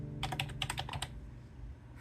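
Keys on an old-school computer keyboard clack in a quick burst of about a dozen close, crisp strokes, then stop, leaving quiet room noise.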